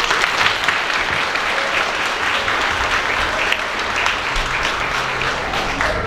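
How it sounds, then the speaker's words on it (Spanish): A congregation at a San Antonio de Padua feast-day Mass in Ciudad del Maíz, San Luis Potosí, applauds for the saint with broad, even clapping that holds steady and dense for several seconds with no voice over it. "Le damos un aplauso a San Antonio."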